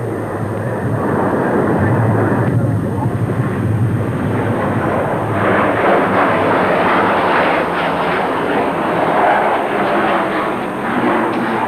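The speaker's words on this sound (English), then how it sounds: "the Canberra Trainer is now seen to advantage in a spectacular sequence which shows off her amazing manoeuvrability" An English Electric Canberra jet trainer roars through a manoeuvring display, a loud, continuous broadband jet noise that swells and shifts in tone as the aircraft passes overhead.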